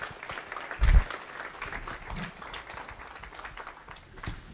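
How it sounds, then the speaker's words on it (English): An audience claps for panelists and a moderator at an evening panel discussion, a moderate, fairly brief burst of applause that swells early and then thins out. "So can we give one more round of applause to the panelists and our moderator?"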